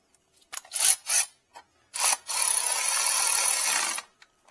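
Ratchet clicks close up while tightening a spark plug on a 2005–2009 Hyundai Accent, in a few short bursts, then one longer steady run of rapid clicking before it stops.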